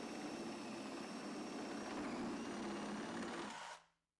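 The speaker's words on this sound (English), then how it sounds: "with the switch saw, cut out the plasterboard" A switch saw cutting out a section of plasterboard, giving a steady, close buzzing drone that holds at an even level for several seconds and then stops abruptly.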